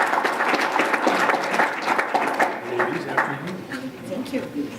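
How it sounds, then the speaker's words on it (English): Audience applause greeting candidates for the state House of Representatives as they walk to the stage at a political forum, a full burst of many clapping hands that tapers off as voices rise beneath it. "let's give them a round of applause as they do."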